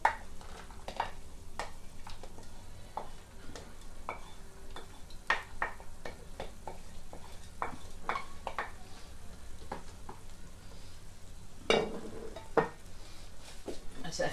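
Chopped celery and onion sizzle in a hot pan while a utensil stirs and scrapes, giving a soft steady fry broken by sharp clicks and taps against the pan.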